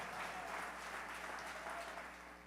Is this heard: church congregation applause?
yes